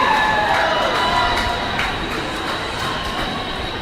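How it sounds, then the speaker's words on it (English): Standing-room-only crowd packing a school gymnasium before a Wildcats vs Tigers basketball game, a loud steady roar of chatter and cheering with scattered shouts, no clear voice standing out. "we got a standing room only crowd in the Troy Faust Memorial"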